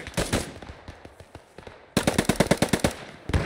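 STG44 assault rifle fire in the World War II shooter Post Scriptum: rapid automatic bursts of sharp cracks, a short burst followed by a faster, louder string of shots, with no talking.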